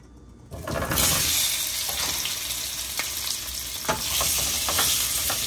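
Loud, steady sizzling of boiled potatoes frying in a hot pan after duck eggs, with occasional scraping stirs and crackles; no voices.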